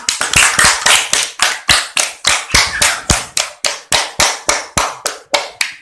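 A primary school class claps together in a loud, close, rhythmic series of about twenty sharp synchronized claps, evenly spaced with short pauses between them.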